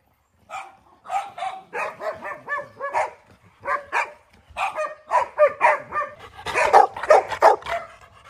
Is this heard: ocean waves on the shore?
no